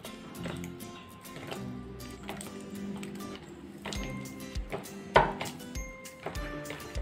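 Jalebi batter of flour, salt and curd being mixed in a bowl, with soft wet squishing and irregular knocks of a spoon against the bowl, one sharper clink standing out.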